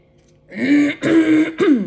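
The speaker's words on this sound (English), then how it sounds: "Let me clear my throat." A person clears their throat three times in quick succession, close and fairly loud, each rasp short and gravelly with brief gaps between.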